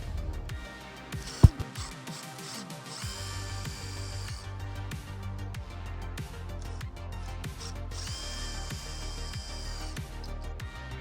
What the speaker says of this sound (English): these are welded in with a plastic weld, which is easily removed with a drill.